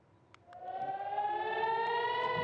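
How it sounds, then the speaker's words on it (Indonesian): An air-raid siren in Nahariya, Israel, during a Hezbollah rocket attack winds up and holds a steady rising wail, faint and distant, after a couple of brief clicks at the start. "Sirene pun terus berbunyi tanpa henti saat rudal memasuki langit kota Nahariyah"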